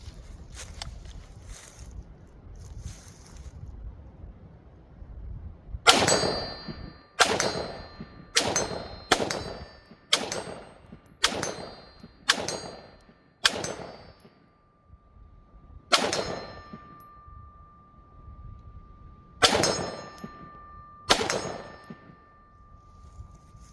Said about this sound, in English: I got 11 rounds left in the rifle, shoot some rounds and see how we're stacking in the middle of the plate